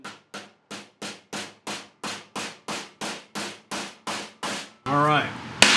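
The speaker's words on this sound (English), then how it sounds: "we're going to beat our extractor into this hole" A big hammer strikes a rounded bolt extractor down into a drilled hole in a steady run of about fifteen sharp metallic blows, evenly spaced and close, followed by a brief loud rush of noise.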